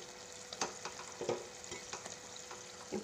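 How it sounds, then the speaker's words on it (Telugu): An egg frying in oil with tomato gives a steady close sizzle with soft irregular scrapes and taps of stirring, alone without talk. "నేను ఎగ్ వేస్తున్నాను, ఆయిల్ కాసేపు ఉడికించుకోవాలి మనము టమాటాలో"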